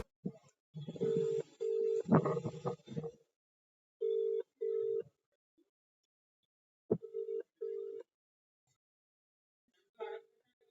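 Mobile phone ringback tone on an unanswered call, repeated short tonal beeps in bursts with gaps, muffled noisy segment early on, fairly clear and close.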